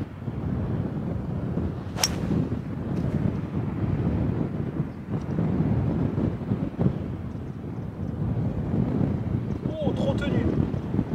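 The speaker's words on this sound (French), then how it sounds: "il y a fort vent contre" Strong wind buffets the microphone on a golf links course at Ardglass, a steady low rumble throughout with faint gusts and no talk heard.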